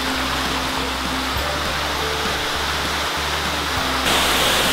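A waterfall roars beside a river, a loud, dense and continuous rushing wash close by, with a low rumbling hum running underneath throughout.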